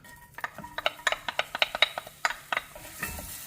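Chopped onion sautéing in about two tablespoons of olive oil in a small pot over medium heat, heard as a quick series of about a dozen close clinking spoon stirs over a faint sizzle.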